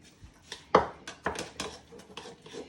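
A spoon stirs chopped coriander into a dip in a bowl, with several close clinks and scrapes against the bowl in an irregular rhythm and no voices.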